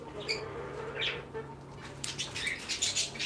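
Pet birds flap their wings as they fly in to be fed, with brief flutters near the start and a louder burst of flapping later, mixed with a few soft chirps and squawks.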